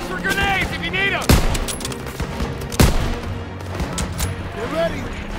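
Dense World War II gunfire in Call of Duty: WWII, two heavy sharp blasts standing out from a continuous rattle of shots, with shouted voices and whistling sweeps layered over the battle.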